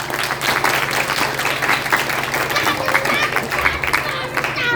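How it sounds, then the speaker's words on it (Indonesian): A congregation at a religious sermon claps in a thick, steady wash of applause mixed with crowd murmur, while a voice keeps talking over it. "Oke, sekali lagi tepuk tangan."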